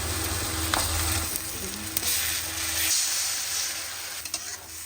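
Onion and garlic paste frying in a pan, a steady hissing sizzle with occasional sharp crackles and stirring scrapes, close and continuous with no talk.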